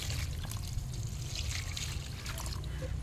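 Liquid compost fertilizer made from kitchen scraps trickles steadily onto garden plants, a close, continuous low pouring and splashing without pause.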